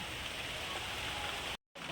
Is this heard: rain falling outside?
yes